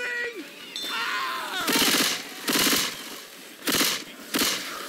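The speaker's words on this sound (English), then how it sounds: "I'm shooting at Barrel like crazy" Bursts of automatic gunfire in Left 4 Dead 2, four short loud rattling volleys separated by pauses, preceded by a brief whining, sliding electronic tone.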